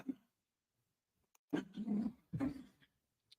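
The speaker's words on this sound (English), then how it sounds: "If you want to know what's going on in the background, my dogs have been a little special today." Pet dogs growling and whimpering in bursts, a short sound at the start and two louder grumbling stretches later, heard faintly in the background of a quiet room.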